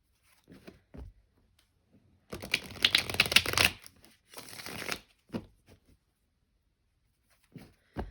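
Tarot cards are shuffled close by in a short rustling burst, followed by a few lighter taps and flicks in an otherwise quiet room.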